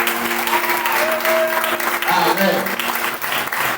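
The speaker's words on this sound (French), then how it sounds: "Un applaudissement royal." Applause from a church congregation during a French-speaking service, loud sustained clapping with a voice calling out over it and a sustained musical tone underneath.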